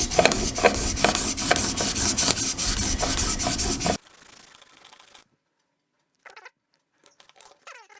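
A blade bevel is honed at 25 degrees on a sharpening stone in a honing jig, giving loud, regular back-and-forth rasping strokes for a few seconds up close, then quiet with a few faint handling noises.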